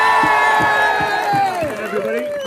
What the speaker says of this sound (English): For those of you who don't know why we're cheering